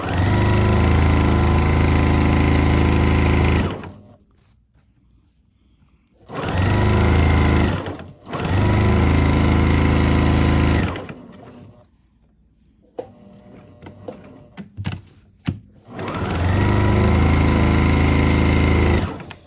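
A sewing machine stitches the seams of a weighted heat massager in three loud, steady bursts of rapid whirring, separated by quiet pauses with small handling clicks.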